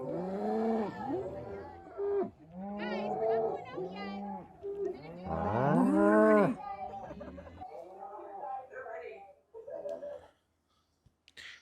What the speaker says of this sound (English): Feed the cows.